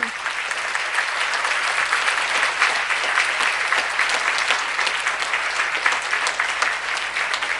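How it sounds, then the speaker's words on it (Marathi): Audience at a kirtan event in Lokmanya Nagar applauds, loud sustained clapping from a large crowd filling the whole span without pause. "टाळ्यांचा गजर करावा"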